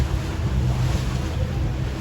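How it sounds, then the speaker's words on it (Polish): Rolling sea waves off Makarska, heavy low rumble and steady wind noise, loud and close, with no talking. "to za duże fale"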